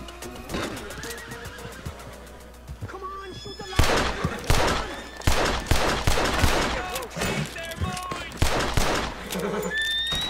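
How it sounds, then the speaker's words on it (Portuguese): A Red Dead Redemption shootout cracks out repeated gunshots in clustered volleys, mixed with horse whinnies and game ambience, while a voice speaks over part of it. "Que tiroteio é esse que tá acontecendo?"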